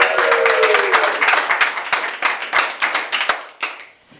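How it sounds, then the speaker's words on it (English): Audience applause at an art show fades from a full burst into a thinning patter of individual claps, with sharp distinct hand claps trailing off over about four seconds. "Let's everybody give Carol a round of applause here."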